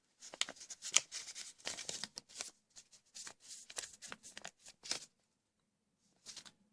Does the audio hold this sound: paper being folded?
yes